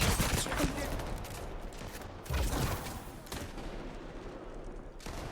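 Dense bursts of gunfire from the Highguard video game, loud and continuous with rapid overlapping shots and heavier blasts, with a player talking at times over the shooting.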